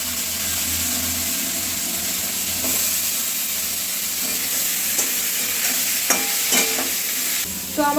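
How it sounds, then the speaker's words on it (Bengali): Fish frying in oil in a home kitchen, a steady close sizzle running throughout with occasional stirring clinks and scrapes, no talking. "তো আমার মাছ ভাজা হয়ে গেছে"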